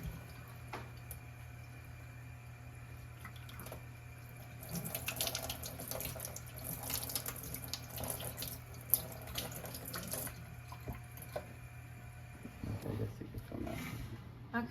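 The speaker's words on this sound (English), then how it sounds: "So we're just going to continue rinsing these salmon pieces." Salmon pieces rinsed under a running kitchen tap, a steady hiss of water with splashing that grows busier in the middle, over a constant low hum.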